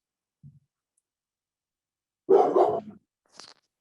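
A dog inside a room gives a single brief bark after a faint short sound, followed by a small click in otherwise quiet surroundings.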